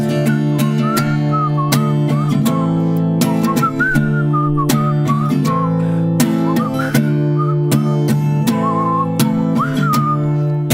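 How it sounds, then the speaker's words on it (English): A person whistles a wavering, melodic tune over steady instrumental backing, the whistled line rising and falling throughout. "Whistling's hard."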